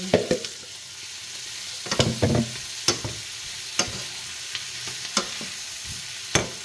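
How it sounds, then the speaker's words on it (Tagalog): Cabbage and mixed vegetables stir-fried in a hot pan for a keto shirataki noodle dish, with a steady sizzle and sharp, repeated clacks of a utensil scraping and tossing the food, close and fairly loud, no voices. "lulutuin lang natin ng konti yung ating repolyo"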